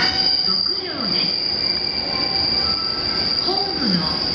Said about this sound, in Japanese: Spacia Kinugawa 2 bound for Shinjuku will soon arrive on track number 4.